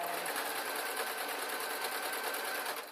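A sewing machine stitching a Downton Abbey-style dress, a steady rapid mechanical whir with an even needle chatter, close and fairly quiet, running alone for nearly three seconds.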